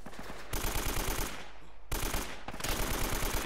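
Gunfire in Uncharted: Drake's Fortune comes as loud, rapid automatic bursts with a rhythmic rattle, broken by two short pauses before the shooting resumes.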